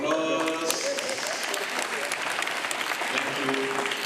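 Audience applause fills a hall at an event where Nigeria is named winner of the best booth, steady dense clapping sustained throughout at moderate loudness with faint crowd murmur beneath.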